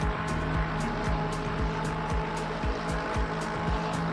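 A Porsche race car in a racing game roars at high revs, its engine note dropping sharply with each of several quick gear changes in a regular rhythm, loud and continuous with no talk.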